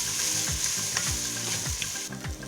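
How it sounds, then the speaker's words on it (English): Rinsed moong dal lentils, quinoa and teff grains are stirred in an Instant Pot, giving a close sizzling, scraping stir with repeated spoon sweeps against the pot and no talk. "Give it all a good mix."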